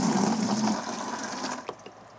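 Water rushes from a hose connector on an outdoor hydrant, a steady broadband gush close to the listener that gradually eases and thins toward the end.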